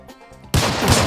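A sudden loud burst of Minecraft gunfire cuts in after a quiet moment, sustained and harsh like rapid video game shots, with no talking.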